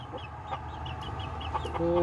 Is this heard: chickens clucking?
yes